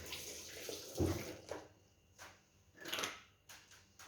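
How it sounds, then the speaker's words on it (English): A tap runs in short bursts of splashing water as hands are washed under it. The sound is close and fairly quiet, and it swells and fades a few times. "You turn your tap, and then you do what? You wash your hands again."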